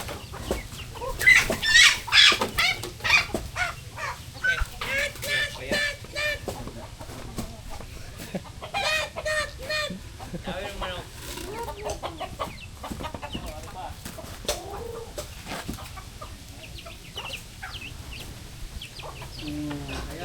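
Chickens cluck and chatter continuously close by, with scattered higher calls over a steady outdoor background.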